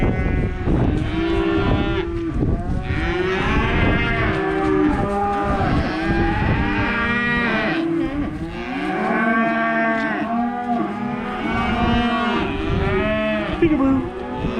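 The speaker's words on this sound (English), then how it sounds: "Oh, it's a heifer." Weaned heifer calves on a farm mooing repeatedly and loudly, several overlapping drawn-out calls filling the whole stretch with barely a pause.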